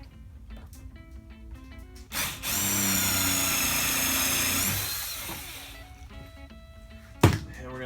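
A power drill bores and countersinks a hole in the wood base of a crosscut sled, whirring steadily for about two seconds of sustained, moderately loud running, with softer workshop handling and a sharp knock near the end.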